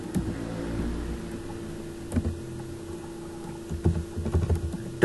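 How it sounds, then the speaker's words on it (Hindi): Scattered keystrokes on a computer keyboard while text is entered on a presentation slide, soft irregular clicks in small bursts over a steady low hum, with a louder cluster near the end. "अब इसके ऊपर मैं कोई टेक्स्ट लिखता हूँ"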